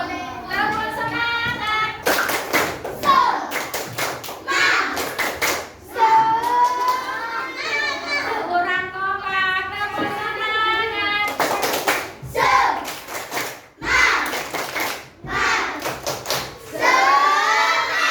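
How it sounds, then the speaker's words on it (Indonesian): Children in a classroom do rhythmic "tepuk semangat" clapping, with sharp patterned bursts of hand claps alternating with a voice and children chanting along. "kita melakukan tepuk semangat terlebih dahulu"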